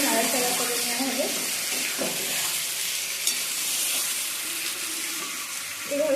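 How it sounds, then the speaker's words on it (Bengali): Chicken being stirred and fried in a pan for a spicy red chicken kosha, with a steady close sizzle and intermittent scraping of the spoon against the pan throughout. "এভাবে বেশ কিছুক্ষণ নাড়াচাড়া করে এটাকে ভালোভাবে কষিয়ে নেওয়া হবে।"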